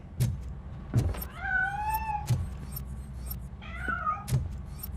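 A cat in Robocop Rogue City gives two drawn-out meows, separated by a pause, over a low background hum with several soft thumps.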